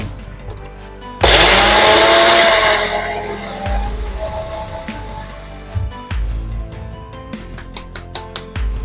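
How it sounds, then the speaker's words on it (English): A kitchen blender roars loudly for about two seconds while grinding dry poutine-style popcorn seasoning, then drops away to scattered clatter and knocks. "We'll blend it up."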